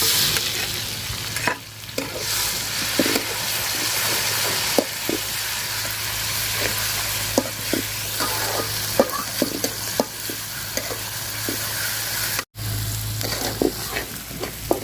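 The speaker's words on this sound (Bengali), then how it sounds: "তো রসুনটা আমি ভাজা নিচ্ছি সুন্দর করে।" Onion and garlic paste frying in a pan for a river fish and tomato curry, a steady close sizzle with frequent stirring scrapes throughout, broken by a brief pause near the end.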